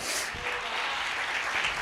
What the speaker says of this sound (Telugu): గట్టిగా చప్పట్లు కొట్టి దేవునికి స్తోత్రం చెప్పాలి